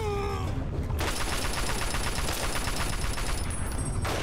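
Rapid shotgun blasts from Fallout gameplay fire in a dense, continuous volley, loud and close, with brief quieter moments at the start and end.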